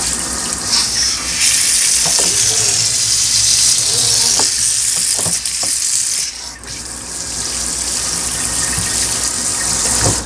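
Water streams steadily from a GIMILI waterfall-style kitchen faucet into a sink, a close, loud continuous gush with splashy shifts as the flow is moved about.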